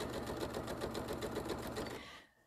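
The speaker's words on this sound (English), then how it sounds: "So I am literally just sewing" A sewing machine stitching fabric for wildlife triangle panels, running in a steady rapid rhythm close by for about two seconds before stopping abruptly.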